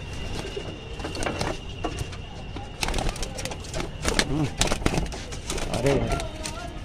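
Restless pigeons in a pigeon loft coo and stir, with rolling calls, flutters and scrapes over a busy background, while someone talks throughout.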